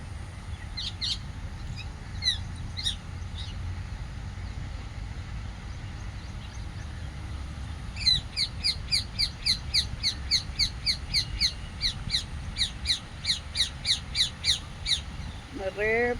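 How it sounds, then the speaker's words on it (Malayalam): Many birds, crows among them, call from an old shade tree. Scattered harsh caws come first, then a rapid run of repeated calls fills the second half over a low, steady background rumble. "ഒരുപാട് കിളികളെല്ലാം ഇതിനകത്ത് താമസിക്കുകയാണ്."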